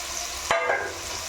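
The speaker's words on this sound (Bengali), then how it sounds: "তো মশলাটা একটু কষিয়ে নেবো" Powdered spice masala sautéed in oil for Kashmiri pulao and aloo dum: a steady low sizzle with one sharp scrape of a spoon midway, close and fairly quiet, no speech.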